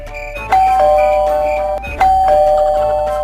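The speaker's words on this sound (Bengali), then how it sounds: "আবার কলিং বেল" A loud electronic doorbell rings indoors twice in quick succession, each press a bright two-tone ding-dong chime that rings out and decays.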